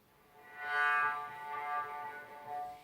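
A cello is bowed near the bridge in ponticello style, giving a glassy, overtone-rich sustained note with a breathy shimmer that swells and eases over a few seconds, played alone.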